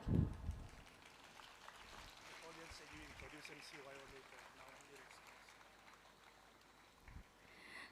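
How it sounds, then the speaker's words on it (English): Audience at a regional Catholic youth convention in the North East claps steadily for the Regional Youth Director, a soft, distant patter of applause like rain, with a voice briefly over the start. "Let us all give a big clap"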